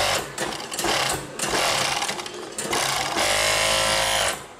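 A sewing machine stitches through nine folded layers of thick fabric, running loud and close in rapid mechanical bursts with brief pauses, then one longer steady run.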